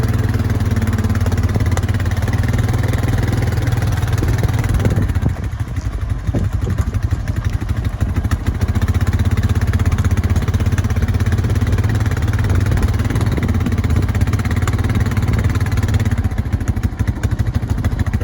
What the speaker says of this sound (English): See if I can record and drive the four-wheeler.